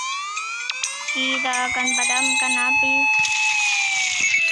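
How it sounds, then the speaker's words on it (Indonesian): Fire engine siren in a car video game rises and wails in a repeated pulsing tone, joined by a second higher siren near the end, sounding under someone speaking. "Ini pemadam kebakaran."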